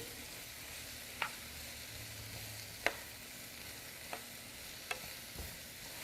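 Cabbage noodle casserole ingredients, seasoned with salt and pepper, cook down in a pan with a soft, steady sizzle and a few sharp utensil taps at irregular intervals, quiet and without talk.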